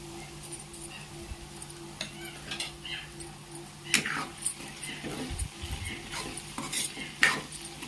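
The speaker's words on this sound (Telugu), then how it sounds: "పసుపు వేసుకొని కొంచెం కలిపేసి మళ్ళీ అలా వదిలేద్దాము" Okra fry with turmeric is stirred in a pan, with a spoon scraping and clinking against the metal over a soft, steady sizzle; the strokes are close and irregular.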